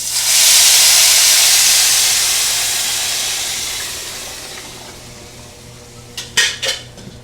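Spices hitting browning rice in a hot pan for Spanish rice, a loud burst of hissing sizzle that slowly fades, followed near the end by a few clinks of a utensil against the pan.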